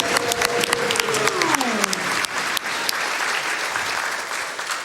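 An audience at a speedrun marathon event claps loudly and continuously, with a brief voice at the start before the applause carries on alone.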